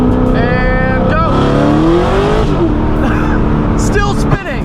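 A 900-horsepower, E85-fuelled Corvette ZR1 with a manual gearbox accelerates hard with its tires spinning, its engine roaring loud and close with a climbing, shifting pitch that fills the whole clip.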